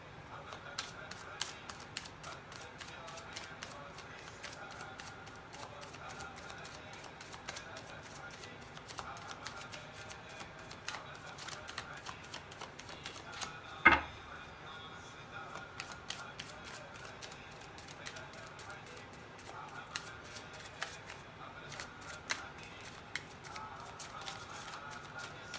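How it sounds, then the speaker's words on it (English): Tarot cards are shuffled in a long run of soft, close riffling clicks and snaps, with one sharper knock partway through. "So I have to shuffle the cards like this so I can get the energy flowing."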